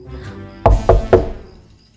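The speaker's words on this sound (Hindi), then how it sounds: "दरवाजा फिर बजा।" Three firm knocks strike a door in quick succession, close and loud, then fade into quiet.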